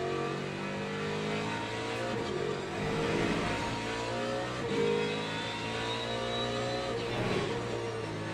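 A race car engine accelerating hard in a racing video game, pulling away from a rival Lamborghini; a steady droning roar with rising and falling revs through the gears.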